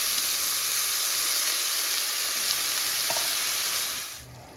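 Potatoes and canned seasoned cabbage simmer in a big skillet with a steady, close frying sizzle and hiss that holds evenly, then fades out near the end.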